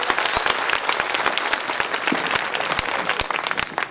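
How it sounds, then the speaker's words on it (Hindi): An audience at a Hindi comic poetry gathering in Jhalawar claps vigorously, a dense, continuous burst of applause with crisp individual claps standing out, steady for four seconds and close-miked. "तो एक बार दोनों हाथ खड़े करके तालियां बजाइए"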